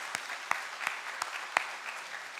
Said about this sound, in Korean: 뜨거운 박수 다시 한번 보내겠습니다.